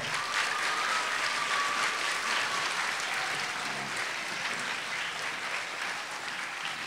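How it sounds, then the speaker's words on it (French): Children and a mixed-age audience applauding at a Kimbanguiste music concert at the Institut Français in Brazzaville, a dense, continuous wash of clapping from a large crowd, steady and fairly loud throughout. "Alors, les enfants, est-ce que vous pouvez applaudir, les enfants?"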